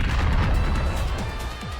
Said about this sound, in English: Upon impact, there is a blinding explosion,